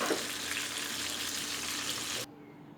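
Tilapia fish frying in oil, Bengali style, crackles with a dense, steady sizzle up close before the sound stops suddenly, leaving quiet room tone.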